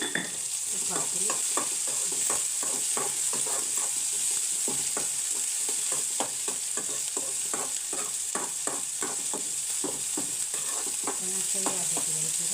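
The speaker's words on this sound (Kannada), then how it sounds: "ಇದಕ್ಕೊಂದು 2 ಕಾಳು ಉಪ್ಪು ಹಾಕಿದರೆ ಬೇಗ ಟೊಮೆಟೊ ಎಲ್ಲ ಬೇಗ ಫ್ರೈ ಆಗುತ್ತೆ" Tomatoes frying with a pinch of salt, a constant bright sizzle with rapid rhythmic stirring strokes scraping the pan throughout.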